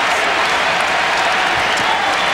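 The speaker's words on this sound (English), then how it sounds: "This crowd is alive." Basketball arena crowd at Purdue versus Indiana, roaring and applauding in a steady, dense wash of noise that fills the whole moment without letting up.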